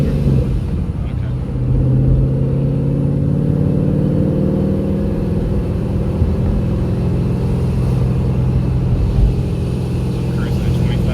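Stock 2014 Ford Mustang fitted with a Paxton 2200 supercharger, cruising at 2500 RPM with a steady, loud, low engine drone heard from inside the car.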